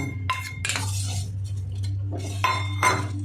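A utensil clinks against a glass or metal bowl while dissolved cornflour is stirred into milk for homemade sweet yogurt, several close bright taps in small clusters over a low hum, with no talk.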